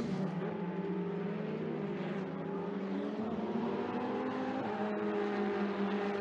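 Ferrari Challenge Trofeo Pirelli race cars at Misano World Circuit, a steady, moderately distant engine drone with shifting tones as cars run past, no voices.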